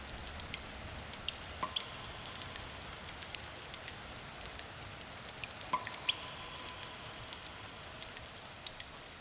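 Water trickling and dripping into cupped hands, soft scattered droplets with a few brighter plinks over a faint hiss, quiet and close.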